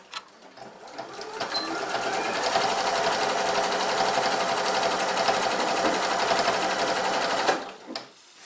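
A domestic sewing machine stitches fabric in one steady, fast run of needle clatter for about seven seconds, close and clear, then slows and stops with a couple of short final bursts.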